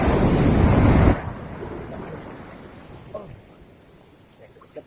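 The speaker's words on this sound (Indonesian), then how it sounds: "Lihat bagaimana mereka diterjang ombak yang sangat tinggi." A very high wave breaks on a rocky fishing shore at Batu Kalang beach, a loud close crash and roar lasting about a second before cutting to low wind and faint surf wash, with brief voices afterward.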